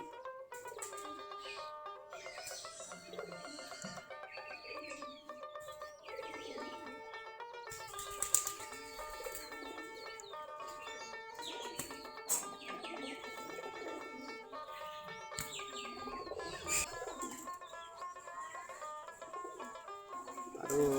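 Flock of Giribaz pigeons kept in a loft, a continuous chorus of cooing and calls with scattered chirps from other birds, busy and fairly close throughout.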